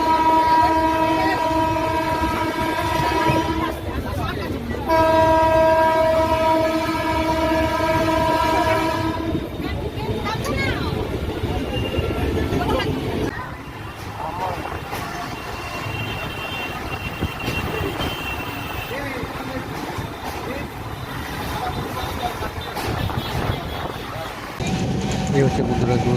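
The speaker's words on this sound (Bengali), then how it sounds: "এই হচ্ছে বন্ধুরা দুরন্ত এক্সপ্রেস ট্রেনের স্পিড।" Duronto Express train (22201, Sealdah to Puri) running at speed, with two long sustained horn blasts early on over a constant rolling rumble of wheels and carriages that carries on steadily afterwards.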